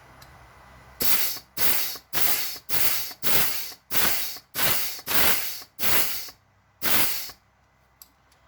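Compressed air blown in repeated bursts into a transmission input housing on a Suburban: about ten loud, steady hisses of roughly half a second each, evenly spaced, with quiet gaps between and no talking.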